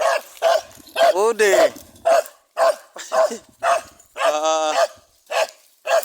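Several dogs bark over and over in sharp, loud, close bursts, with a yelp and whining cries mixed in. People speak between the barks.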